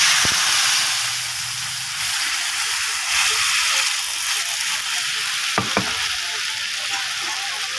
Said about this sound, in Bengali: এখন আমি ডালটাকে ঢেলে দেবো